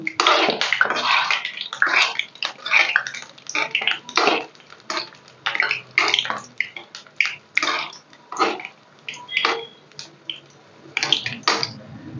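Ripe jackfruit batter fries in boiling oil while being stirred, making irregular bursts of bubbling, hissing crackle that rise and fall close by, with brief quieter gaps between.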